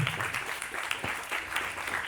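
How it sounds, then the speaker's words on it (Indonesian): Steady applause from an audience at a talk, dense continuous clapping filling the whole stretch at moderate volume. "Boleh tepuk tangan teman-teman semua"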